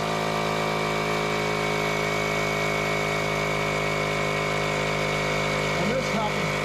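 A compressor fills the air shocks on a 2021 Grand Design Imagine 2500RL travel trailer to 50 pounds, giving a loud, steady mechanical hum that drones unbroken throughout, with a brief shift in tone near the end.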